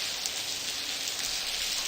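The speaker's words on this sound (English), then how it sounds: "Take a look around. It's pouring cats and dogs out here." Steady heavy rain pours in The Blackwell Convergence, a dense, even hiss with no break, loud and close throughout.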